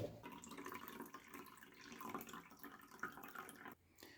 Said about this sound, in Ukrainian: Почергово заповнюємо всі наші ємності.